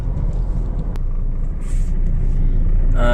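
Steady low road rumble of traffic with large vehicles on a road near Hat Yai, Thailand, heard from a moving car: continuous, fairly loud engine and tyre drone with no speech.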